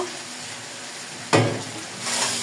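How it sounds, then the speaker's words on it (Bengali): Young jackfruit curry stir-fries in a pan, a soft continuous sizzle broken midway by one sharp, louder scrape and hiss as the mixture is turned. "কষা লাগবে পাঁচ মিনিট কষিয়ে নেব"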